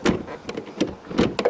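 A VAZ-2107 car door is worked open, giving a few close, sharp clunks and latch knocks spaced irregularly, with nobody talking.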